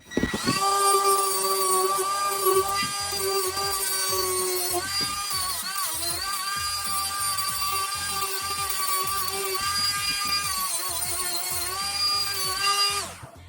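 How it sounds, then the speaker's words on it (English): Dremel rotary tool with a worn cutting disc working on an RC4WD 4Runner roof rack, a loud steady high whine that stays continuous for about thirteen seconds with slight pitch dips. "And grab the Dremel."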